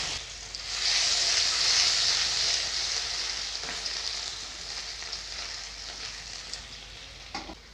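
Dry red chillies, bay leaf and ginger paste frying in hot oil give a loud burst of sizzling that settles into a steady crackle, with a few stirring clinks, close by.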